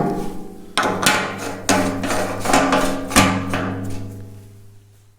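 A hammer strikes number stamps into flat steel, five sharp ringing metallic blows spaced about a second apart, close and loud, each leaving a sustained tonal ring.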